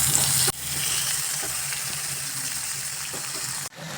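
Chicken pieces frying in hot oil with spice paste in a pan, a steady loud close sizzle throughout, briefly interrupted at the start and end, no talking.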